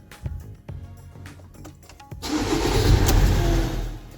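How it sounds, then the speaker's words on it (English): A 2017 Ford Transit engine, just after a fuel filter replacement, is started: a few clicks and short starter-cranking bursts, then the diesel catches and settles into a loud, steady running rumble close by. "then start the engine"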